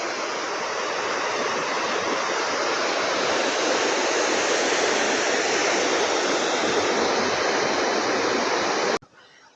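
Water rushing through a barrage at a small tourist spot, a loud, continuous broadband roar that holds steady and then cuts off abruptly near the end.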